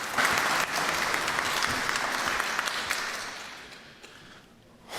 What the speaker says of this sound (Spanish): Recibimos al magíster Alfonso Bahía Herrera con un fuerte voto de aplauso.